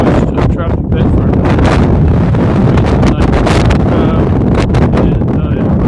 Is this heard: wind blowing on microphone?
yes